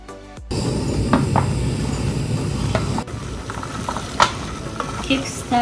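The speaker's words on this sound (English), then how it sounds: "Keep stirring in evenly until they are ready." Soya chunks fry in vegetable cooking oil in a saucepan, a loud steady close sizzle broken by occasional scrapes and knocks of stirring.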